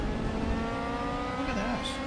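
In a racing video game, a race car engine holds a steady, sustained drone with a slight rise in pitch toward the end. A voice sits faintly in the background.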